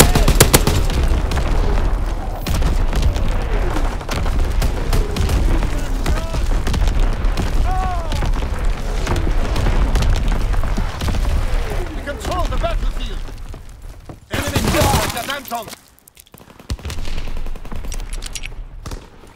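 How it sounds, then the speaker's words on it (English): Incoming artillery shells and gunfire in a Call of Duty WW2 Domination match in the Ardennes Forest, with repeated heavy booms and rattling bursts that continue almost without a break, and a short lull near the end. "Incoming enemy artillery. Get to cover."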